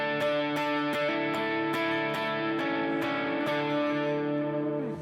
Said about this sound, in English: The rhythm channel is going to be our stage 1 overdrive channel.